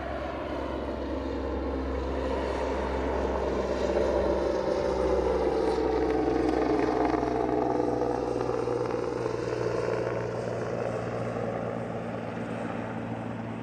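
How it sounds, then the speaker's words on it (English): A helicopter moves at Aberdeen airport with a steady, distant, rumbling whine and rotor drone that swells slightly toward the middle and carries on with no speech over it. "Helicopter's moving."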